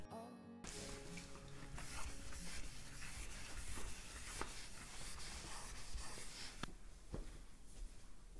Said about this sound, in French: L'éponge magique est très pratique pour nettoyer les taches isolées.